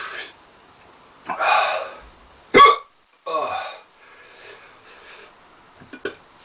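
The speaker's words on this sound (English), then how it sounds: "hiccups are in full swing" A person has hiccups after eating Yellow 7 and Monster Naga hot pepper pods. Several sharp, close hiccups come at irregular intervals, with breathy throat noises between them.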